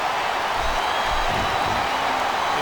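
A capacity crowd at a WWE SmackDown wrestling event produces a dense, steady roar of thousands of voices that stays loud and unbroken throughout.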